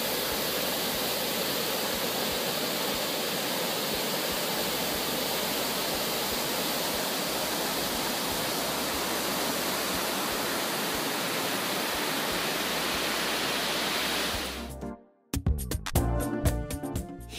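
A waterfall on the Abunã river at Fortaleza do Abunã roars as a constant, dense rush of falling water, loud and unbroken for most of the clip before an abrupt cut to brief crackling noise.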